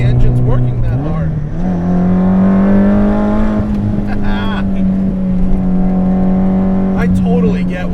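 SR20-swapped Nissan S13 240SX climbing a hill under steady load, its engine droning with a smooth rising tone throughout, close and loud, with a brief shift change early on.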